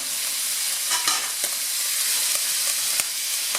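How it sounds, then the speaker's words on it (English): Food pan-fries in a hot pan for fried rice noodles, a loud, even sizzle with a few louder crackles and stirring scrapes, no talking. "First we fry the food for the noodles. Make sure your pan is hot."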